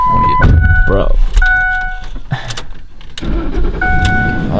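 A new truck's engine cranks and starts amid chimes and chatter, with people talking over the vehicle sounds near the microphone.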